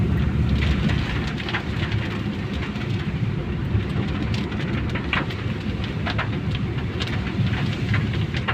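Steady heavy rain drums on a car while driving along a road at night, a dense continuous wash with occasional sharper drop impacts and low rumbling road noise underneath, no voices.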